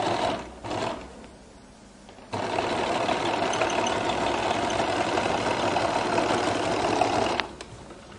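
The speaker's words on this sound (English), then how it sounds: "And I'll sew here." Sewing machine stitching a flared skirt, a steady continuous mechanical whir running several seconds at moderate loudness after brief handling noises, stopping near the end.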